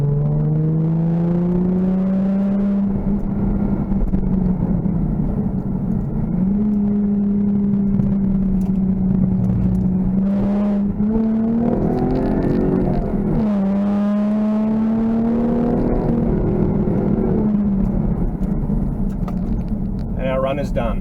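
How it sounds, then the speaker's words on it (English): A 2016 Jaguar F-Type coupe with a six-speed manual pulls hard, its engine note rising and dropping through quick gear changes, with exhaust overrun crackle between shifts; loud and close throughout. "Slick shifting 6-speed manual gearbox, a bit of overrun on the exhaust."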